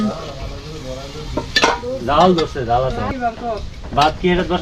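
Mutton and salt are stirred with a scraping, sizzling sound in a pot over a wood fire in a rural Bangladeshi mud kitchen, heard under steady, close conversation.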